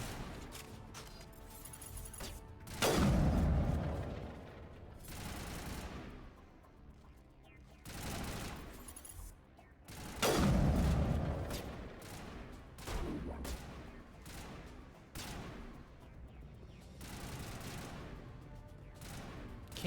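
Gunfire in the video game Mass Effect: bursts of rapid shots and heavier volleys come in several loud waves with short gaps, over a busy, continuous game soundscape.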